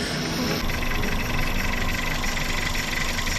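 A 2002 Toyota Corolla engine runs at a steady idle-like drone, close and continuous with a faint rhythmic knock underneath and no voices.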